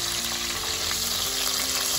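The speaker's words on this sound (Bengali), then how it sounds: "লাল লাল করে ভাজছি।" Prawns sizzle and fry in a pan until reddish for a Bengali prawn malai curry, a steady close crackle with soft stirring scrapes throughout.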